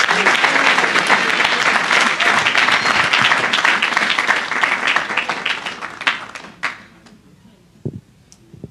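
Church audience applauding at a French-speaking gospel service: dense, loud clapping for about six seconds that thins into a few scattered claps and then falls quiet.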